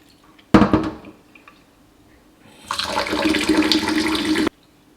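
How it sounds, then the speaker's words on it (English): Water splashes and swishes as rice is rinsed in a bowl, a short burst followed by a longer steady sloshing rinse, close by with no talking. "Place the rice into a bowl, give it a rinse a couple of times"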